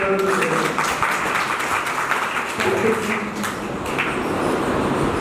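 Loud, dense applause from a seated crowd at a meditation camp in Hisar runs steadily throughout, close and continuous, with no voices breaking through.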